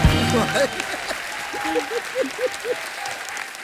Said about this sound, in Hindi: एक बार जोरदार तालियां हो जाएं गैंग्स ऑफ वसेपुर की पूरी स्टार कास्ट के लिए